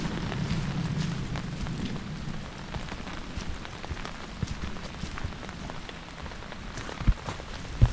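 Heavy rain falls steadily on a steep mountain trail, a dense, close patter that holds even throughout, with a few sharper drip hits near the end and no talking.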